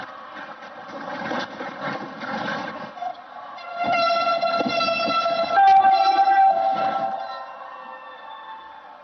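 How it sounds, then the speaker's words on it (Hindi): A Pune Metro train starts its first service run at an inaugural ceremony, sounding a loud sustained horn over rumbling rail and motor noise, with crowd noise and voices in the background. "हरी झंडी दिखाकर मेट्रो रेल सेवा का शुभारंभ करें"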